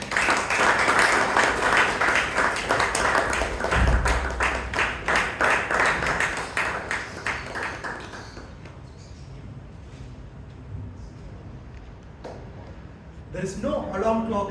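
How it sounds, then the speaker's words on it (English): A Toastmasters club meeting audience claps loudly to welcome a speaker, dense applause for about eight seconds that fades out, followed by a voice beginning to speak near the end. "Please welcome with a big round of applause"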